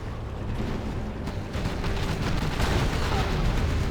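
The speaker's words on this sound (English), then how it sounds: "Gatling and tank buster firing away" Gatling and tank buster weapons fire in a Command and Conquer Generals: Zero Hour match, heard as a dense, continuous rumble of rapid shots and distant blasts that builds slightly over a few seconds.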